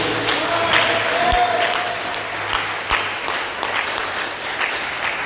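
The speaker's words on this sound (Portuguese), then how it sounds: "dê uma salva de palmas bem alegre para Jesus" A church congregation claps together in a lively round of applause for Jesus, a dense steady wash of hands with a few louder thumps, heard up close across the room.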